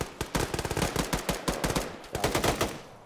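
Automatic fire in a military-style video game comes as rapid, evenly spaced shots in several bursts. It is fairly close and moderately loud, with short gaps between volleys and no speech.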